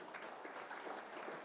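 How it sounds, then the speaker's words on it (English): Brief burst of audience applause at a workplace safety kickoff event, a faint, even wash of many people clapping heard at a distance. "let's give a round of applause for Guy Yoakum,"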